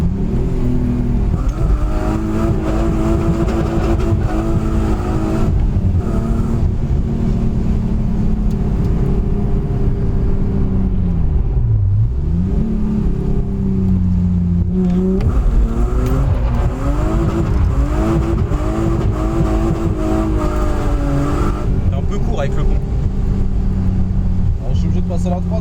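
BMW E36 race car on its first laps at a circuit, engine droning loudly with gear shifts and revving surges, a brief dip and recovery midway, with voices talking over the onboard noise.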